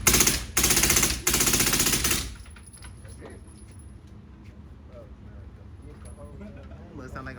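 Gunfire at an outdoor shooting range, a few very loud rapid-fire bursts close by in the opening seconds, then quieter ambient noise and distant sounds.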